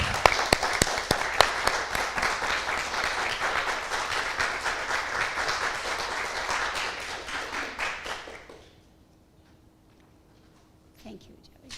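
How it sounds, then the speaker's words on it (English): Church congregation applauding at a New Year's Day service, a dense wash of clapping for about eight seconds that fades out, leaving a quiet room with a faint hum. "Can we give them a round of applause?"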